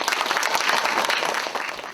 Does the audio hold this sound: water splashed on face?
no